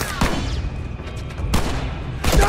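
Gunfire in The Last of Us video game: loud broadband bursts, one near the start, another around the middle and a third at the end, over a continuous busy game background.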